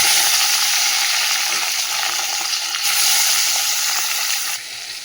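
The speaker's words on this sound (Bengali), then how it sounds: "মাছটা ভেজে নিই" Fish frying in hot oil gives a loud, continuous close hiss and spatter that runs without a break and drops off sharply right at the end.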